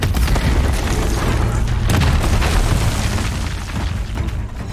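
Disc launcher explosions go off in the video game Horizon Zero Dawn, a dense run of loud, booming blasts and bursts with no pause across the stretch.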